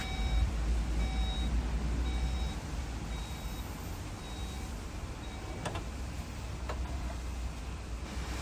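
Rear parking sensors on a Skoda Karoq 1.5 TSI SE L SUV beep faintly at a steady rhythm over a low background hum, then fall silent partway through.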